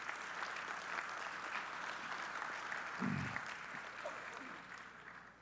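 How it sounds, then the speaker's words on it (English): Steady applause from an audience at a multi-stakeholder meeting, honouring remote participants, sounds evenly at moderate-to-quiet volume with a brief low thump midway. "I would like to ask an applause for them."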